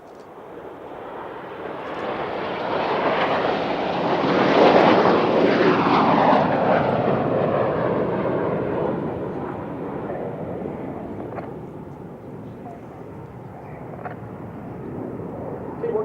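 A Hawk jet roars overhead during an airshow display at Cosford, swelling to a loud peak as it passes near and then fading into a long, distant rumble with a steady whoosh.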